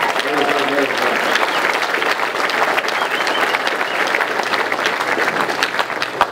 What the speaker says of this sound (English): So I want to give the Swanns and Wes a big round of applause.